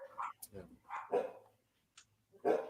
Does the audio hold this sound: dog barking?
yes